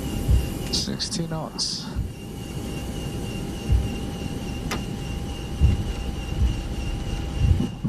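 An airliner's engines roar in reverse thrust during the landing rollout at Hong Kong, a steady, heavy rumble filling the flight deck beneath brief cockpit callouts and a sharp electronic tone.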